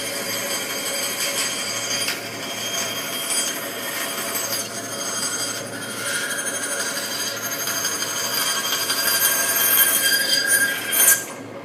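A band saw cuts through wood with a continuous whining buzz, and repeated brief rattling catches as the blade strikes relief cuts, ending in a louder snag.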